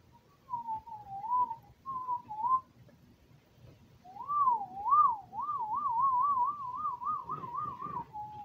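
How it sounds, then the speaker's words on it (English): A person whistles a wavering melodic tune by mouth, two short phrases followed by a longer warbling run, fairly near and clear over faint background noise. "I can whistle just fine."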